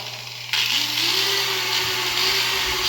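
A Harbor Freight power tool that won't switch off kicks on abruptly and keeps running, a loud, steady mechanical whir with a faint rising whine.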